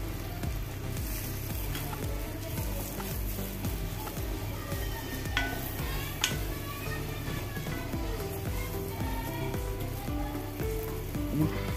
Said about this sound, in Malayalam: 4 പച്ചമുളക് കട്ട് ചെയ്തതാണ്. അതും കൂടി ചേർത്ത് കൊടുത്ത് എണ്ണേൻ്റെ കുറവ് വന്ന് കുറച്ചൊരു എണ്ണ ഒഴിച്ച് കൊടുക്കാം.